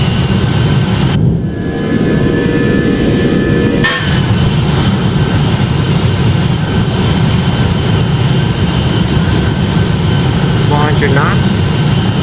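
Boeing 757 jet engines spool up to full takeoff thrust in Project Flight, a loud steady roar filling the whole stretch with a brief dip early on, with a voice heard faintly.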